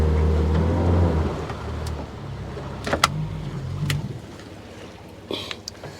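A boat's engine throttles as the boat is driven onto its trailer at a launch ramp, a loud low rumble that fades after a few seconds, followed by a few soft knocks and splashes.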